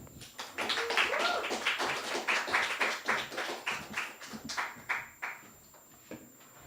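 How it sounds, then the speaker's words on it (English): Applause from the audience at a poetry book celebration at Beyond Baroque, a modest crowd clapping unevenly, building quickly and then tapering off into a few scattered claps. "A round of applause for Patty Seyburn."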